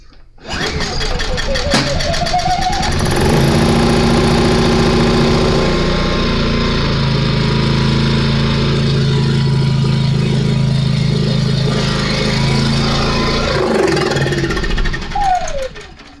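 A pancake generator is cold started on choke with its side pull cord, the cord rasping briefly before the small engine catches and runs loud and steady with a buzzy, rattling drone, then winds down near the end.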